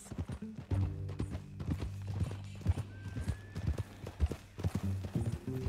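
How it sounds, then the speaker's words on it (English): Horse hooves clip-clop in a steady, close rhythm in Red Dead Redemption 2, with a short whinny partway through and low-level game sound beneath. "That a new horse?"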